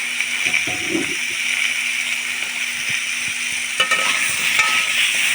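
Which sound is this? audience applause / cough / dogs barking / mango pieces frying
mango pieces frying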